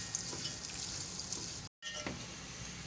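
Four medium onions go into hot oil to fry until light brown, giving a steady close sizzle with a short cut partway through and no talking.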